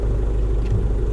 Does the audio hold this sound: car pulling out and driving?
yes